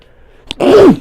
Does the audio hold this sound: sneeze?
yes